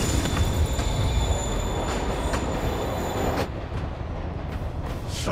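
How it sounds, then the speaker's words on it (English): A moving train in the Spider-Man PS4 video game rumbles loudly with a steady rolling roar and a high metallic wheel squeal, close and continuous, easing slightly near the end with no talking. "Train moving."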